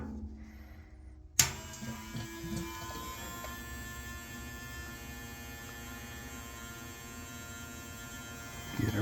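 A diesel heater starting with a sharp thump and then running with a steady, close mechanical hum and buzz, with no talking.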